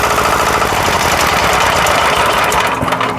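A DINOZO ZX15 15-horsepower diesel engine driving a high-pressure water pump runs close and loud with a steady, throbbing idle as the throttle is eased down, with no voices.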